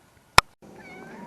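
A cat gives one short, sharp meow close by, then there is a brief silence and a quieter background murmur with a thin tone.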